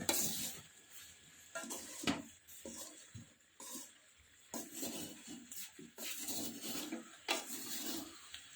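Amla and green chillies being stirred with turmeric in a pan for pickle: repeated scraping, rubbing strokes of a spoon against the pan in an irregular rhythm, close and moderately loud, with faint sizzling between strokes.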